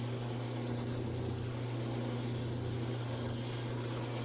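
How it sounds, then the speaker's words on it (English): A small gouge cuts wooden beads on a spinning lathe for a quilt rack: a steady motor hum under soft scraping, with a few brief raspy cutting passes at moderate loudness and no talk. "to do that, I'm going to use the smallest gouge that I have"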